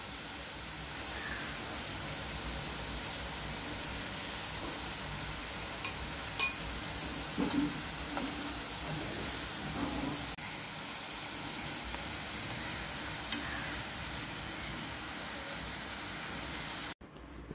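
Beans frying in hot oil give a steady, dense sizzling hiss that stays even throughout, with a few faint pops, then cuts off abruptly at the end. No one speaks.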